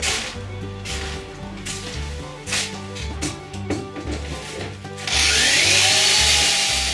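A power tool works a wooden kayak joining piece with a series of short rubbing, whirring passes, then a louder continuous grinding burst near the end, up close.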